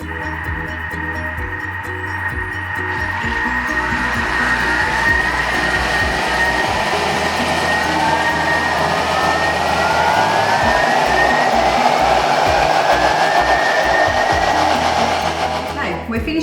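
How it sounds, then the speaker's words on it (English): A Thermomix blade whirs at high speed as it purees a thick vegetable stock paste, ramping from speed 5 up to speed 9 in a loud, steady motor roar that runs the whole stretch with a continuous churning texture. "We're going to turn the speed to speed 5 and then gradually take it to speed 9"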